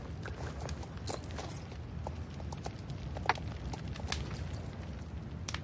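Horse hooves clip-clop at a walk in the video game Star Stable Online, an irregular run of soft, fairly quiet hoofbeats over a low ambient background.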